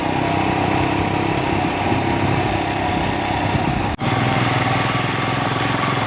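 Motorcycles on a rough, dusty road in Ladakh make a loud, continuous engine drone close by, heavy wind noise mixed in and a brief dropout near the end.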